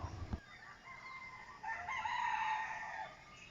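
A rooster crows clearly for a few seconds after a brief thump, fairly faint and distant, with other fowl sounding faintly.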